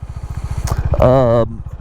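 Honda Highness CB 350 motorcycle engine, a close rapid thumping idle that briefly dips and then resumes during a gear shift, with someone speaking over it.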